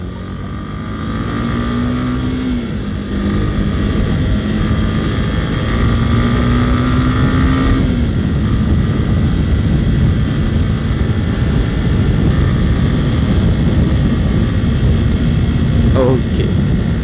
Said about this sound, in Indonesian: Kalau sudah kuning, kita masukkan gigi satu,